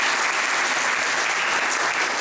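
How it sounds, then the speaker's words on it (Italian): An audience at a book prize award ceremony applauds the jury, a dense, steady roar of clapping from many hands that holds loud throughout. "vi chiedo un piccolo applauso"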